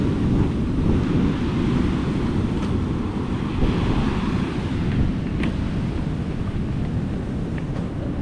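Sea waves rolling onto a shore near a river mouth, a steady loud roar of surf with wind buffeting the microphone and faint splashes rising now and then, no talking.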